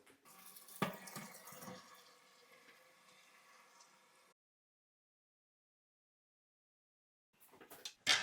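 Cold water runs into a sink to cool a batch of homemade gluten-free beer, a soft steady splashing that stops abruptly, followed by silence and then a few brief knocks.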